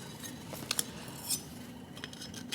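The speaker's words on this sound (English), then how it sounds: "a little cook set as well." Metal camping cook set handled in an emergency food box, with light clinks and scrapes of nesting pots and a pan, faint and sporadic over a quiet background.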